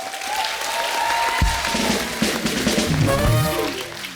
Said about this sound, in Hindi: आप सबकी जोरदार तालियों के बीच बुलाना चाहूंगा